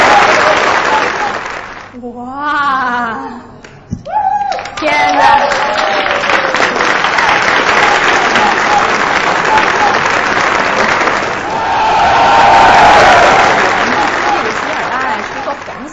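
Loud audience applause and cheering for a singer at a televised Xinjiang music show, a dense steady wash of clapping lasting throughout, with excited exclamations from a voice near the start and a swell of cheers toward the end.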